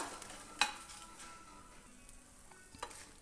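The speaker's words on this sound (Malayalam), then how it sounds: "മുളകിൻ്റെ എല്ലാം കളറൊന്ന് മാറുന്നത് വരെ ഒന്ന് റോസ്റ്റ് ചെയ്ത് കൊടുക്കുക" Shallots and red chillies dry-roast in a pan, a soft close stirring rustle with a faint sizzle and one sharp scrape early on, fairly quiet throughout.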